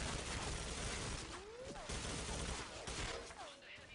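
Rapid gunfire and grenade blasts from a competitive online shooter match, a dense continuous barrage of shots with sharp bursts, under a steady background of voices.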